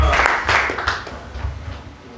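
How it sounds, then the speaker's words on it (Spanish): A church congregation breaks into a short burst of applause that swells and then fades over a couple of seconds, with voices mixed in beneath the clapping. "Denle un aplauso al Señor."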